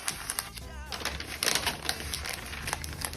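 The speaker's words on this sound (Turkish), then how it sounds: "Önce kraft kağıtla sararak başlıyoruz." Kraft paper being wrapped around a package for shipping, with steady crinkling and rustling that rises and falls in bursts, close and moderately loud, with no talk over it.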